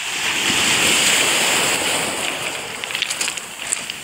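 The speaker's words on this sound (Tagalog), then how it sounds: "Ito ang dagat na mabato." Waves wash against a rocky sea shore in a steady, loud surf roar with wind buffeting the microphone, and a few brighter splashes and spray bursts come toward the end.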